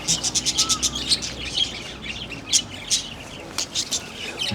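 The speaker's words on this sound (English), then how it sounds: "Birds." Small birds chirp in rapid, repeated high tweets, fairly close, in quick bursts with short pauses over faint background noise.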